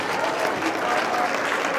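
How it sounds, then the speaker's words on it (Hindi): Audience applause at a Hindi comic poetry recital, a steady wash of clapping filling the hall throughout with no pauses, moderately loud and unbroken. "देखिए ये समय से आप लोगों ने ताली बजा दी है।"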